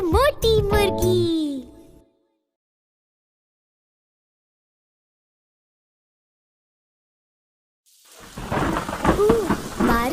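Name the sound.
thunderstorm with rain in a children's cartoon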